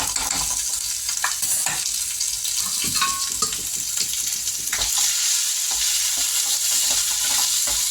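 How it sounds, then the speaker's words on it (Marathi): Ground onion-garlic masala paste sizzles in hot oil while a spoon stirs and scrapes it around the pan, with a steady close frying hiss and soft knocks throughout. No one speaks. "तर काहीच बघू शकता मी आता हे वाटण फ्राय करून घेणार."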